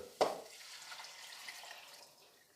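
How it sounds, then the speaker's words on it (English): Water pours steadily into a pot of sautéed mutton masala after a small clink, a soft continuous splashing that gradually fades. "Once it is sauté, add the remaining water"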